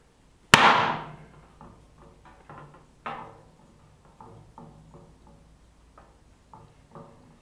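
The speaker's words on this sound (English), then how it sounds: "If it looks like the chisel fits, I go on and hit it." A hammer strikes a chasing chisel into solid copper sheet during folk art repoussé work: one loud sharp blow, then a series of lighter taps at an uneven steady pace, close and alone.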